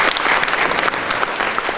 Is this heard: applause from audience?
yes